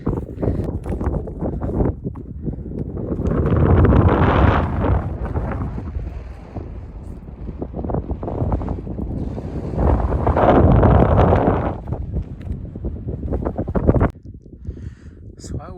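Wind gusting across an exposed mountain ridge in Kananaskis Country, roaring and buffeting a close microphone in two strong surges with rustling straps and gear in between.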